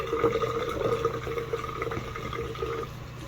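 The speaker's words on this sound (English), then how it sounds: "I just first off start off by putting the water on" Water runs steadily from a tap, a continuous splashing rush holding at a fairly even level from start to finish.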